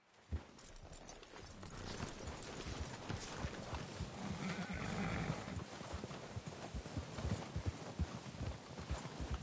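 Horse hooves clip-clop at a steady walk amid a busy outdoor ambience in the video game Red Dead Redemption 2, fairly quiet and with no talking.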